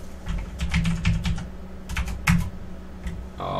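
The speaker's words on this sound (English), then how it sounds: "And yes, I have a very clicky keyboard." Rapid, uneven keystrokes on a very clicky computer keyboard while working on an Ubuntu Linux install, close and fairly loud, in short bursts with brief pauses and a heavier thump near the end.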